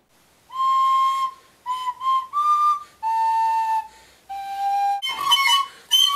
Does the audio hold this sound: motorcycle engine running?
no